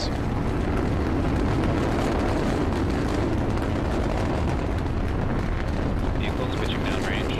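A SpaceX rocket's first stage engines roar in a steady, dense rumble during the TESS satellite launch, holding loud and unbroken throughout with a faint tonal chirp near the end.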